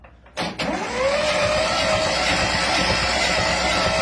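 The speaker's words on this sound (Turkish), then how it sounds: "22 yıl sonra marşa basıyoruz." A 1952 tractor that sat under a walnut tree for 22 years, its engine cranked by the starter motor: a brief click, then a sustained loud whirring drone with a rising tone, close by.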